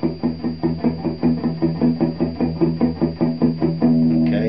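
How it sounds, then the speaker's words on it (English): Palm-muted power chords on a distorted electric guitar, chugging in a steady, even rhythm of about a dozen short, tight strikes, ending on a longer ringing chord, loud and alone. "That's palm muting."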